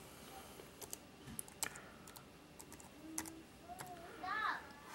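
Faint taps and clicks come from a finger typing a search term on a Nextbook 10.1 tablet's on-screen keyboard, irregular and quiet against a soft background, with a brief murmur of a voice near the end.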